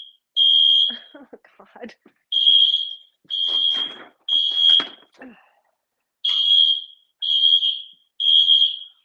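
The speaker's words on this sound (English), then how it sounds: "I set the alarm off with my Palo Santo" A smoke alarm set off by burning Palo Santo wood shrieks in loud, piercing beeps of about a second each, repeating with short pauses, while a person mutters and exclaims in between the blasts.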